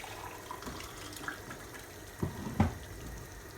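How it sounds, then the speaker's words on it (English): Water is poured into a mug in a kitchen while cooking chicken pilau, a soft, low-level trickle and splash with a couple of slightly louder gurgles near the end and no talking. "So I'm just going to pour my water into my mug"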